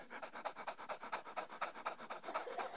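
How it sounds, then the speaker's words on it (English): A person pants rapidly like a dog, hand on the abdomen to feel the diaphragm working: a steady, close train of quick breathy huffs, about five per second, with no talk. "Put your hand right there on your abdomen and pant like a dog."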